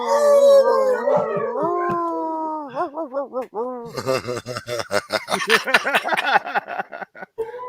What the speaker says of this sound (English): My puppy, who's now like an adolescent and has gotten huge, discovered her bark the other day.